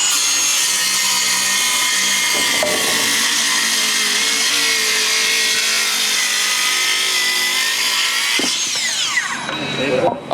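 An AEG cordless circular saw rips through F17 hardwood, a loud continuous cutting whine held steady for several seconds before spinning down near the end.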